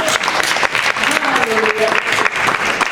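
A church congregation applauding in praise of the Lord: dense, steady clapping from many hands filling the room, with singing or voices mixed in underneath.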